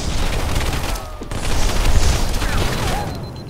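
A grenade explodes in a Halo 3 custom match, a dense rumbling blast amid continuous battle noise and other firing, with a swelling roar in the middle.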